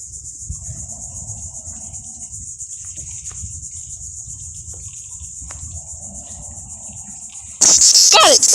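A cicada buzzes loudly and continuously at close range, a shrill sustained drone that swells into a harsh, frantic burst near the end.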